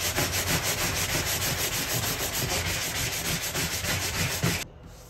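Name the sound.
sanding fiberglass bathtub with 120 grit sandpaper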